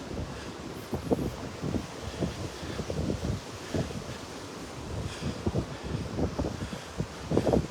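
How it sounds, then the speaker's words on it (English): Wind gusts across the microphone on a Gulf beach at Delnor-Wiggins, a continuous low buffeting rumble mixed with surf wash, with no one speaking. "If this wind dies down, it's going to be gorgeous today."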